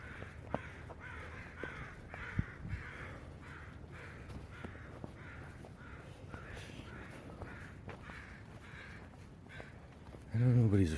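A flock of crows caws repeatedly, a rapid run of harsh calls overlapping one another at middle distance, with a voice briefly starting at the end.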